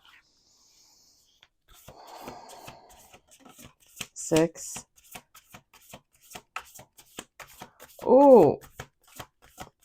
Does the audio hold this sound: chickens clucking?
no